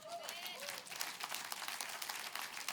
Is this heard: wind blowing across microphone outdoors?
no